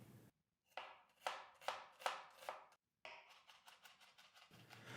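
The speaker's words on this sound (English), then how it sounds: "I'm dicing 2 onions and chopping up 4 cloves of garlic" A kitchen knife chops onions and garlic on a cutting board for white chicken chili, a steady run of sharp close taps in two bursts separated by short pauses, with no talking.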